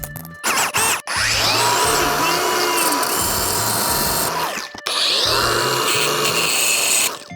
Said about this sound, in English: So I'm just gonna use a flap disc.